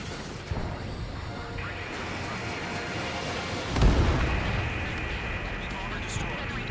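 A missile explosion destroys an enemy bomber in the Ace Combat 7 flight game, a single heavy boom erupting midway through a constant roar of jet engine and battle noise.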